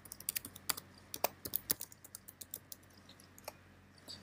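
Rapid keystrokes on a computer keyboard while entering an email address, a run of close, crisp clicks in uneven bursts that thin out toward the end, with no talk.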